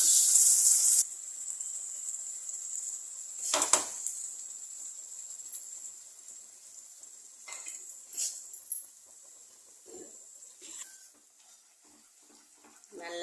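A ground paste of onion, tomato, ginger, garlic and green chilli is sautéed with fennel and cumin, starting with a loud sizzle that fades into quieter hissing, broken by scattered stirring scrapes and clatters.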